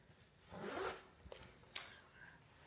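A zip-up jacket is zipped, giving a soft rasping pull followed by a few small clicks and a brief sharp tick, quiet and close.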